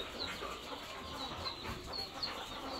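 Chicks in a poultry farm brooder peep in a steady, high chorus of many small birds, faint but continuous throughout with no talk.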